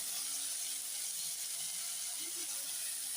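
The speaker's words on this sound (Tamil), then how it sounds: "கறி நல்லா வதங்கிட்டு இருக்கு" Pumpkin curry (yellow pumpkin roast) sautéing in a pan, a steady soft hiss and sizzle running evenly throughout at low level, with no voices.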